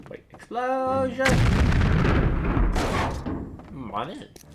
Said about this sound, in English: Oh, wait. Explosion!